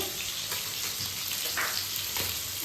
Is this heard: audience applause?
no